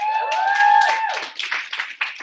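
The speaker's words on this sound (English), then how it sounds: "let's clap it up for the first timers" Workshop audience clapping for first-timers at a mindset session: a short burst of applause mixed with cheering and whooping voices, tonal shouts up front, then scattered claps trailing off.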